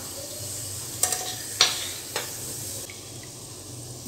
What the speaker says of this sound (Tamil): இந்த மாதிரி கொஞ்சம் கொஞ்சமாக போட்டு பொறிச்சு எடுத்துக்கலாம்.